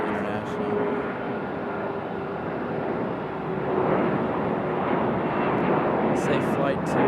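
A PSA airliner rotates early on takeoff from Raleigh-Durham, heard as a steady, broad, loud jet roar that swells slightly partway through and stays constant throughout.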